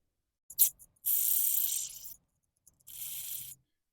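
Short bursts of brake and carb cleaner aerosol hissing nearby onto a Honda mower carburetor: a quick puff, then a longer steady spray of about a second, a pause, and another spray.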